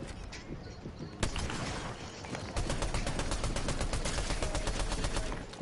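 Automatic gunfire from a multiplayer shooter video game comes in fast, sharp bursts. It is dense and loud, with one heavy shot standing out before a long rattling volley, and players talk over it.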